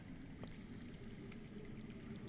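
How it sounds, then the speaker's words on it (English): Water flowing underground in a cave setting in a Game of Thrones game, a faint, steady trickling wash lasting a couple of seconds. "I hear water. From underground."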